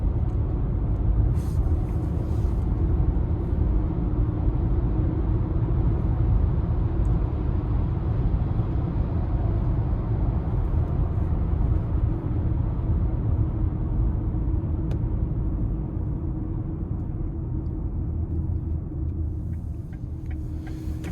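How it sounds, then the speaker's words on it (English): Inside a 2026 Lincoln Nautilus Black Label while driving, a continuous low road rumble and tire hum fills the cabin steadily, fairly quiet, with faint brief clicks now and then and no talking. "Road noise is a bit prevalent, but for the most part, nothing that would deter me from getting this car."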